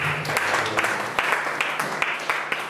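A church congregation bursts into dense, hearty applause for Jesus, a crowd of many hands clapping together close and lively, with a few sharper claps standing out.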